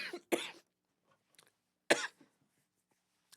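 A man coughs close to the microphone, two harsh bursts in quick succession, a small throat noise, then a third heavy cough, with quiet gaps between.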